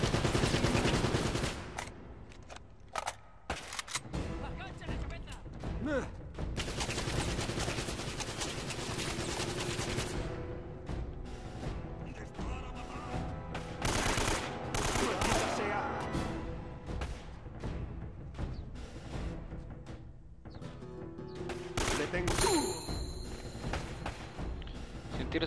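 Gunfire in the video game Uncharted comes in repeated bursts and single shots, loud and clustered over nearly half a minute, with someone talking in between.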